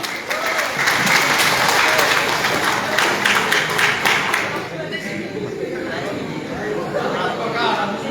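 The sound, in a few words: applause from the audience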